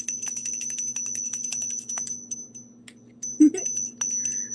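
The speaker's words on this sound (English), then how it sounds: "So let me ring my bell for you, my victory bell for you" A small hand bell rings in a quick series of bright, jingling strikes with a lingering metallic tone, fairly close, over a low steady hum.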